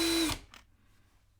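A brushed-motor Ryobi cordless impact driver switches on and whirs loudly for a split second, then cuts off, leaving faint rustling and a brief later burst of motor noise.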